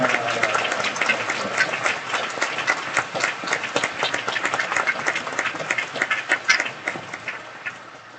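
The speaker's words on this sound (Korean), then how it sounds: "하나님께 영광의 박수 올려드리겠습니다." A church congregation claps steadily for several seconds, a dense patter of many hands that swells slightly and then tapers off near the end.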